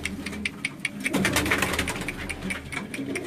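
Racing pigeons coo repeatedly in a loft in Quetta, a steady soft burbling chorus of several birds close by, with light rustling underneath.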